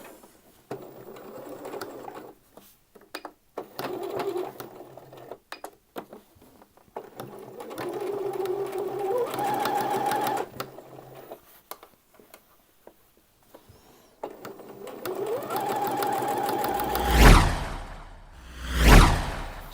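Sewing machine stitching the inside leg seam of Thai wrap trousers, whirring in several bursts of varying length separated by pauses and fabric handling, ending with two loud swooshing sweeps.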